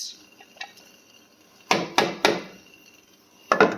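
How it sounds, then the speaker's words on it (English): A cup and a half of carrots drops into a pot of split pea soup, making a few sharp thuds and clatters close by, spaced apart, with a final burst near the end. "And I'm going to add in some carrots."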